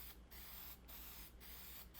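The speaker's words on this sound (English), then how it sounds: "we just spray it real lightly" Four short hissing bursts from a spray can applying a light coat of finish to a wooden cross, evenly spaced, close and fairly quiet against a faint background hum.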